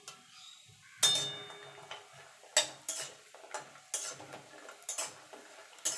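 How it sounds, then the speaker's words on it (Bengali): Lentil dumplings (bori) frying in hot oil for a drumstick and potato curry, with soft sizzling and a series of sharp spatula scrapes and clatters against the pan at irregular intervals, no talk. "দেখুন বন্ধু তেলটা গরম হয়ে গেছে, বড়িটাকে প্রথমে ভেজে নেব।"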